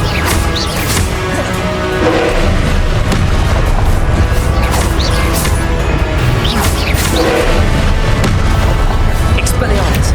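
Repeated booming spell blasts from Confringo in the Hogwarts Legacy video game, loud and dense with crashing impacts throughout, mixed with game music and combat effects, with no talk.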